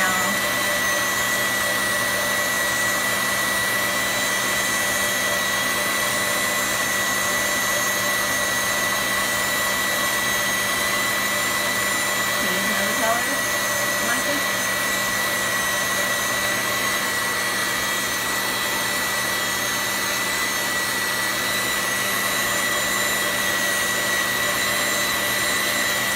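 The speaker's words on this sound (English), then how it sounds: "Thank God for mixers, for the KitchenAid, y'all." KitchenAid stand mixer churning whipped cream into homemade butter, a steady motor whine with a constant mechanical hum that runs unbroken throughout, fairly loud and close, with no voices.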